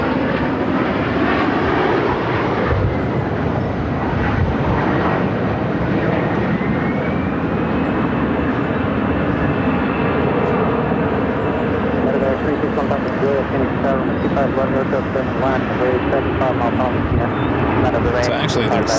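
An airliner takes off from runway 25 right at Phoenix airport, a loud continuous engine roar that holds throughout while people talk over it and a radio voice cuts in.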